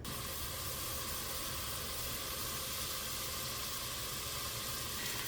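Steady, soft hiss of hamburger meat browning in a pan on a stovetop, an even sizzle with no breaks and no talking.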